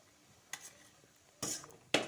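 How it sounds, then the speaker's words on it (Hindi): Flour is added to hot ghee in a pan and stirred, giving a few separate scraping and clinking strokes of a utensil against the metal over a faint background, with no voices. "तो अब मैं इसमें आटा डालूंगी कुछ इस तरह से। धीरे धीरे इसमें आटा ऐड करूंगी।"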